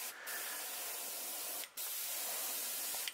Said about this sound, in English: Very lightly, spray a little bit of shoulders and let the overspray come down over the blue, or that aqua color.